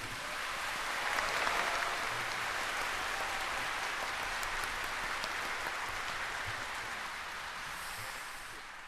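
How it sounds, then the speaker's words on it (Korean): A large audience applauds at a national Liberation Day anniversary ceremony, producing a dense, even wash of clapping that sounds like heavy rain and holds steady throughout before easing slightly at the end. "큰 박수를 부탁드리겠습니다."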